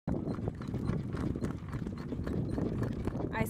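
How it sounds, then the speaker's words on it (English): Horses clip-clop along a road while pulling a cart through town, a steady run of hoof beats that begins abruptly and continues throughout, fairly close, with people talking over the sound. "we have walked the horses"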